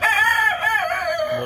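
A Brahma rooster crows loudly and close by in one long drawn-out call, with a faint hen cluck near the end.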